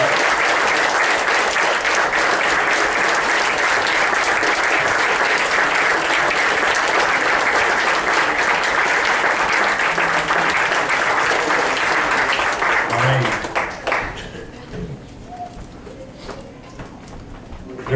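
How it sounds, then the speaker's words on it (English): Congregation clapping in a church fills the room with a dense, sustained roar for about thirteen seconds, then drops away abruptly, leaving a few scattered claps and low room noise. "Let's keep clapping."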